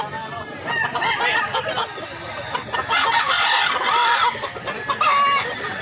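Chickens cluck and a rooster crows amid a busy, noisy market crowd, with the birds loud and close throughout.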